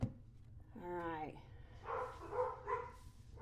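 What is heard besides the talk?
dogs barking in the background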